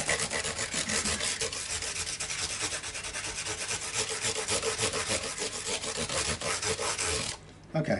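A guitar fretboard on a Fender Mexican-made Stratocaster being sanded with 240 grit sandpaper, a close, loud, continuous rhythmic rasp of quick back-and-forth strokes that stops briefly near the end, with no speech.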